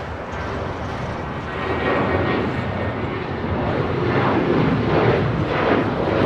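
A United Airlines airplane at LAX roars steadily and fairly loud, its broad engine rumble swelling slightly over six seconds with no voices.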